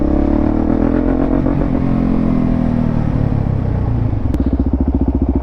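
Suzuki DRZ supermoto motorcycle engine under way, a loud close droning roar that holds steady, then drops into a rhythmic lumpy idle-like putter near the end.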